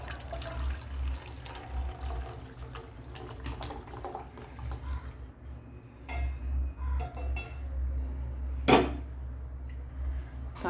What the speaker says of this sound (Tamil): பாத்திரத்தை கழுவிட்டேன்.